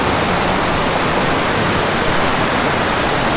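Creek water rushes through a tunnel of boulders with a loud, dense, constant roar that fills the whole moment evenly and close by, with no other sounds.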